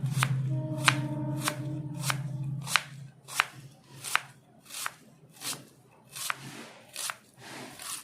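A knife slices through an onion on a cutting board for a Bengali chicken curry, about a dozen crisp, evenly spaced chops heard up close, with a low hum under the first few.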